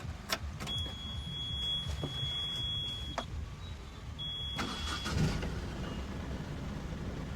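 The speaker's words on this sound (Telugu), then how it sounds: "ఈ వెహికల్ యొక్క ఇంజిన్ అయితే ఒకసారి క్రాంక్ చేస్తాను చూడండి" An Ashok Leyland Dost XL light truck's diesel engine idling steadily with a low rumble, punctuated by a few clicks and intermittent high electronic beeps or chimes from the dashboard.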